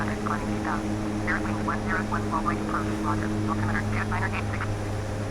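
A de Havilland DHC-6 Twin Otter climbing out after takeoff in Microsoft Flight Simulator X, with a steady twin-engine propeller drone held under someone talking throughout.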